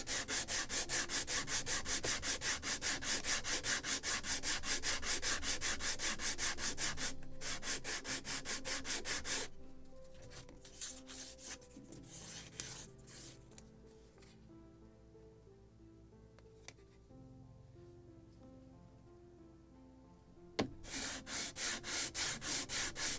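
Sandpaper rubbing over the wooden planked hull of a Model Shipways gunboat Philadelphia model, in fast rhythmic back-and-forth strokes. The strokes stop for a stretch of lighter handling noises, then start again.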